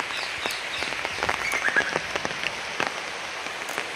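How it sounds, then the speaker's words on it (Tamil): Rain falls at a Krishna temple in Jaffna, a steady close patter of drops on hard surfaces with scattered louder splashes throughout, with no voices. "மழை பெய்யுது சரியா?"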